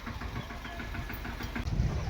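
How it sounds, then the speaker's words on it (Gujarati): A farm tractor engine runs at night during sowing work, giving a steady, close, low chugging idle that holds throughout with even loudness. "ટ્રેક્ટર લઈને આવ્યો"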